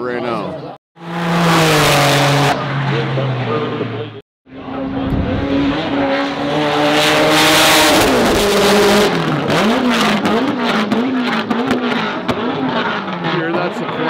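Multi-million-dollar hypercars race past, their engines revving hard through rapid sequential gearbox upshifts, with loud rising and falling pitch and tire squeal, while a spectator talks over the noise.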